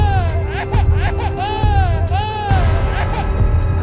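A baby wails loudly and continuously in an animated Hindi folk story, with a steady dense background running underneath the crying.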